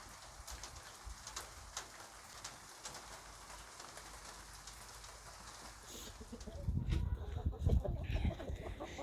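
Chickens and a rooster clucking in a backyard coop during rain, soft scattered clucks over a steady patter of rain on a surface, then a louder, closer burst of bird sounds and rustling near the end.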